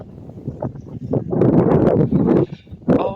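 Gusty wind blows outdoors across open country, uneven buffeting rushes that swell and drop over a few seconds, close and fairly loud.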